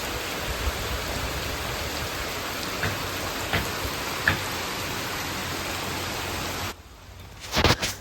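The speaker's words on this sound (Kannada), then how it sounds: "ನಾವು ಮನೆಗೆ ಬಂದ ತಕ್ಷಣ ಜೋರು ಮಳೆ ಶುರು ಆಯಿತು" Heavy rain pours in a steady, dense hiss for several seconds, with a few sharper drops standing out, before cutting off abruptly near the end.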